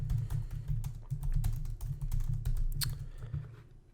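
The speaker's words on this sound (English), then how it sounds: "we'll create a second line and type something out" Fast, close typing on a computer keyboard, a dense patter of crisp keystrokes that continues for about four seconds with brief pauses and no talking.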